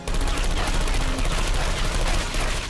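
Automated turrets in Portal 2 spray rapid, continuous gunfire, a dense unbroken rattle that stays loud and close for the whole stretch, with no talk over it.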